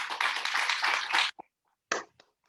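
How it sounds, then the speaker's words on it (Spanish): A small community gathering, singing, praying and dancing at home, breaks into dense hand clapping for about a second and a half, then it cuts off, followed by a couple of short claps and a brief burst of clapping. "un aplauso a la Virgen María"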